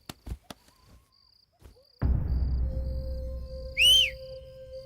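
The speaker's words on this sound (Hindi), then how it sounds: "अरे कौन सीटी बजा रहा है ये?" One short, sharp rising whistle comes near the end of a quiet indoor film scene, set over a low hum and faint ticking noises.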